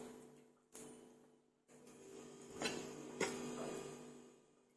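A refrigerator compressor starts up indoors, a low steady hum with a few clicks and knocks as it kicks in, quiet and alone without talk.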